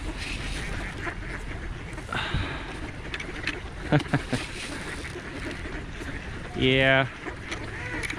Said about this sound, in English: there is Canadian goose show up